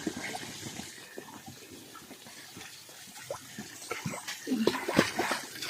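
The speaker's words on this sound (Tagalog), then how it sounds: "Oh, may tubig." Water flows and splashes over rocks along a mountain trail, a faint continuous gurgle that swells louder toward the end, with scattered footsteps and brief voices.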